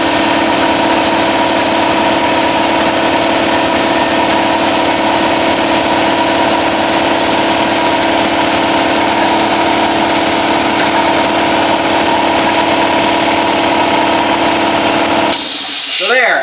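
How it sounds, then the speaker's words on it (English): An air compressor runs and charges up with a loud, steady mechanical drone and hum that holds unchanged for about fifteen seconds, then cuts off abruptly near the end. "So I'm gonna turn on my compressor here, and we're gonna charge it up"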